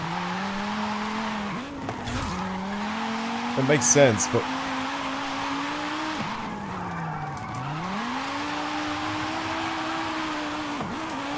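An all-wheel-drive VW Golf R drifts in Forza Horizon 5, its tires squealing in long sweeping arcs as the engine pitch rises and falls. Several separate slides follow one another, and someone talks briefly over the tire noise.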